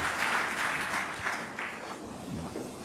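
A church congregation applauds in a steady wash of clapping, moderately loud and continuous throughout, with no voices over it.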